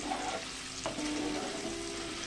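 Paneer cubes fry lightly in a pan for chana paneer, giving a steady soft sizzle with a brief stir or scrape partway through, close and continuous with no talking.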